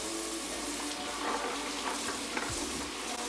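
Carrots are rinsed under a running kitchen tap, a steady rushing wash of water with soft splashes and a brief thud near the end, close and moderately loud with no speech.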